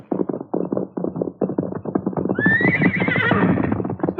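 Silver the horse lets out a loud, close whinny with a rising, wavering cry in a radio drama, following a run of rhythmic clip-clop hoofbeats.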